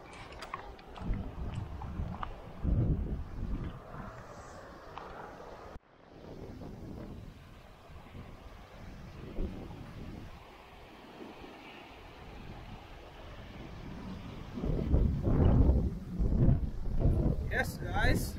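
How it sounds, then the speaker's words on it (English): Wind buffets the microphone in low, uneven rumbles, with a voice talking through the gusts and a louder rush near the end. "It's a little bit windy"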